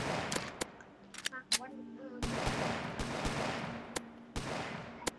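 Gunfire in a Roblox video game comes as sharp, loud shots, some single and some in quick bursts, spread irregularly across the moment, with game sounds and a faint voice in between.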